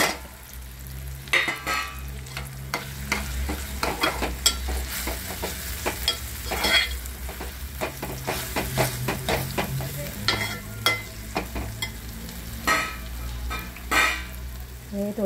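Onion, tomato and spices frying together in a pan for a cowpea curry, a close, continuous sizzle broken by frequent rhythmic scrapes and knocks of a spatula stirring the mixture, with a low hum underneath.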